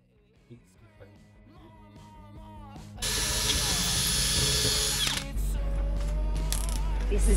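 A screwdriver driving cheap screws while a fridge is fitted aboard a sailboat: after quiet talk, a loud continuous whirring grind starts midway and runs to the end, with a voice heard early on.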